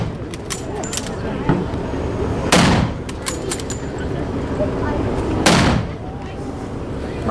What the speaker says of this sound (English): just keep it getting down with some rifle fire